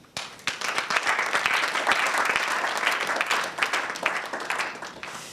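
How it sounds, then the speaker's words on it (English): Sustained round of applause from an audience at the launch of a national science quiz competition in Ghana, dense clapping filling the clip at steady volume with faint crowd murmur. "a round of applause for Mr. Kwesi Anoche."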